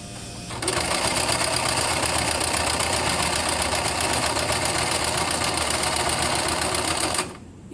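A sewing machine stitching fabric during a dressmaking lesson, running continuously at a fast, even mechanical rhythm for several seconds before stopping abruptly.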